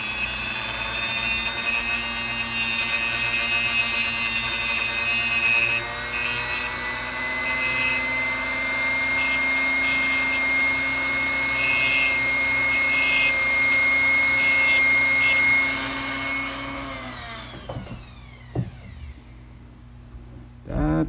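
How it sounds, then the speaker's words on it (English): A Dremel rotary tool grinds a Kato N scale SD40 locomotive frame, a loud continuous high whine with steady tones that runs unbroken for most of the clip, then spins down and stops, leaving a few faint handling clicks. "So then I'll take my Dremel and I'll clean it up."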